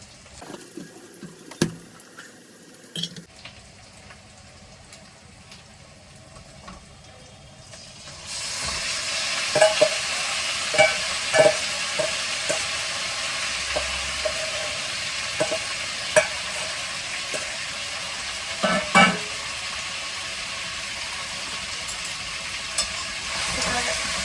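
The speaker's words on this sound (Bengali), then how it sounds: "চিকেনগুলো দিয়ে দিলাম, আর আস্তে আস্তে কষিয়ে কষিয়ে রান্না করবো।" Quiet clinks at first, then a sudden loud sizzle of chicken hitting hot oil in a pan, continuing steadily with periodic sharp scraping and stirring knocks.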